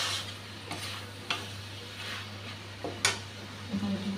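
Fried shrimp and potatoes are stirred in a pan, a soft sizzle under a low hum, broken by several scraping strokes of a spoon against the pan, one louder near the end.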